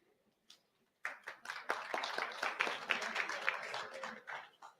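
An audience at the Wiki Indaba conference in the Sisonke main hall bursts into applause after a brief quiet, a dense, sustained burst of many hands clapping that carries on steadily to the end.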